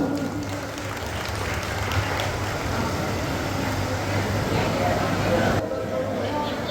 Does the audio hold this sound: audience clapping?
yes